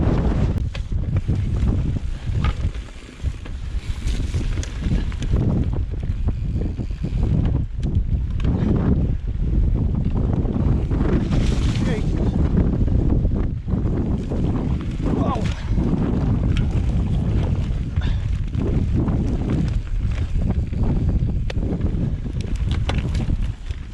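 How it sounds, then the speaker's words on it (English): Steady, loud wind buffets the microphone throughout on an open moor while mountain biking, a constant low roar with gusts, while someone talks now and then over it. "It's too windy."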